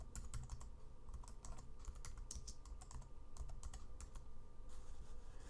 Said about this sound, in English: I'll click on the path and I'll type in Ciderhouse Rules.